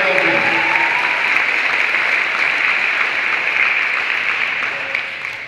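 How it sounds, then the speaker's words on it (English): Audience applause for the band directors at a middle school Christmas concert, a dense, steady wash of clapping from a large crowd that continues throughout and fades slightly at the end. "please give them a round of applause to the band directors"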